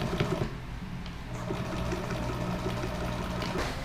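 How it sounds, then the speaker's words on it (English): A sewing machine fitted with a large needle hems the bottom edge of fabric RV tire covers, running as a steady, continuous mechanical whir at moderate volume with no pauses. "First thing I'm doing is hemming the bottom part of the tire covers"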